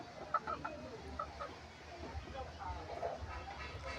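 Laying hens in a backyard coop, kept beneath a bed of Malabar spinach, cluck softly at close range over a low background hum, with faint talk mixed in.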